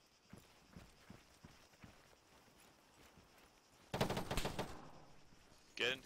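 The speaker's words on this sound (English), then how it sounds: "1-2 taking fire, machine gun." Machine gun fire in a military game: faint, scattered bursts and thumps early on, then a louder, dense crackle of rapid gunfire midway and a short sharp burst near the end.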